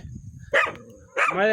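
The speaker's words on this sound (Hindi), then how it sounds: "साथ ही साथ कुत्ता जो है भौंक रहा है" A dog barks twice, sharp and fairly close, outdoors in windy weather on a farm where goats graze.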